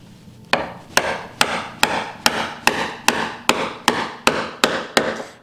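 Chisel struck repeatedly while chopping a mortise in a wooden table apron: eleven sharp, evenly spaced mallet blows, close and clear, with no talk.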